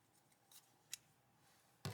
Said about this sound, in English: We're going to cut the yarn